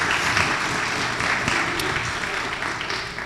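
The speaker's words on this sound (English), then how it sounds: "give her a round of applause" An audience applauds at a student-athlete event in Montgomery, with loud, dense, sustained clapping that tapers slightly toward the end.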